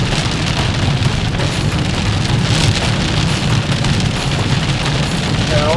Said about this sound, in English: We're already watching the severe thunderstorm.